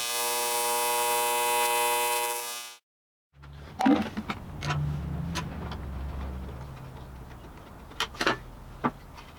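A TIG welder's water cooler pump runs with a strong, steady electric hum for about three seconds, then cuts off, leaving quiet room noise with occasional clicks and knocks.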